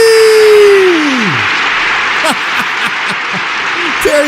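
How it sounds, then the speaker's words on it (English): A steady wash of applause from an audience honouring author Terry Reed, loud at first and holding on evenly, with a voice sliding down at the start and faint murmurs over the clapping. "give him a nice thunderous round of applause"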